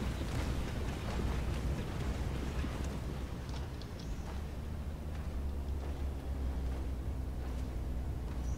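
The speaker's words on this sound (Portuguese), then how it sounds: "A explosão do Cetra funciona em muralha, então vai ser extremamente útil quando a gente subir ali" Settra's ability explosion in Total War: Warhammer II erupts as a loud, continuous roaring rumble that fills the whole stretch with dense blasting noise and no talk.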